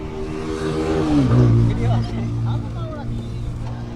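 A powerful motorbike engine revs hard, its pitch climbing and then settling into a loud, steady roar close by, with voices talking over it.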